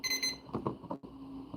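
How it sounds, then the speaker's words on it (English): A bright electronic alarm-style tone marks the start of a live auction timer, a short beeping burst at the opening followed by faint, quieter sounds. "Five's in. Timer started."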